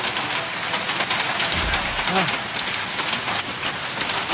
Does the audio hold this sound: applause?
no